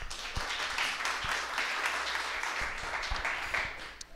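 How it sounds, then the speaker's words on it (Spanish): Church congregation applauding for the Lord during a sermon, a steady, moderately loud field of clapping with a few sharp nearby claps standing out, fading slightly at the end. "Dale un aplauso al Señor."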